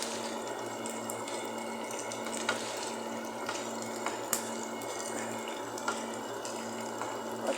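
Onions and green chillies frying in a pan with curry leaves for a chicken kuzhambu, a steady soft sizzle and hiss with a few light clinks, quiet and continuous, with no talking.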